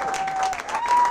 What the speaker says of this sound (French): Mais applaudissons pour lui